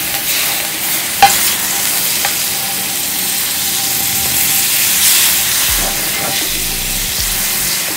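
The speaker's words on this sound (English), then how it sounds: "To my hot wok, I'm adding some butter." Butter sizzles in a hot wok before garlic shrimp is cooked, a steady loud frying hiss with a few soft clinks and scrapes near the start and end.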